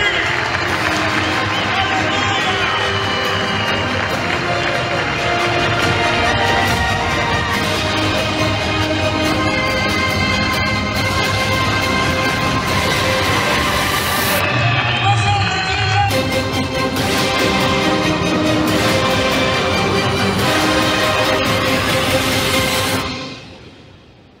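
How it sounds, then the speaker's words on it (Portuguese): A church congregation claps and cheers loudly and steadily for about twenty seconds in a reverberant hall, with voices and music mixed in, then fades out. "Vamos dar uma salva de palmas para Jesus, vem forte!"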